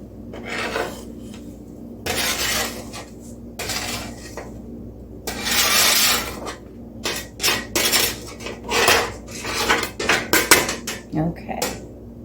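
Toasted coconut is mixed into wet muffin ingredients in a bowl, giving close, irregular bursts of scraping and clinking against the bowl that come faster and choppier toward the end.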